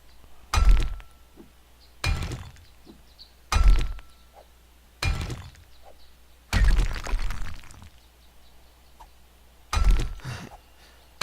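A steel pickaxe whacks repeatedly in 7 Days To Die, a video game, each hit a sharp, loud crack with debris clatter, landing roughly every one and a half seconds with quiet gaps between.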